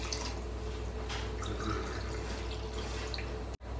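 Water is poured steadily onto rice in a pot for mushroom biryani, a soft, continuous trickle and splash that is quiet and close, ending in a sudden cut.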